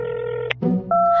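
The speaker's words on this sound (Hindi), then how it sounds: "उसने रूम नंबर 2401 में फोन किया" A telephone tone in an audio drama, a steady held tone that breaks off, a short clatter, then a new higher tone starts, loud and close with no talk over it.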